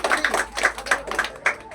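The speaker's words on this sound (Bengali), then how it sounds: "এইটুখানি হাততালি গোঘাটে।" Brief, scattered hand clapping from an audience at a seminar in Goghat, Hooghly, a few uneven bursts of claps close by rather than a full ovation.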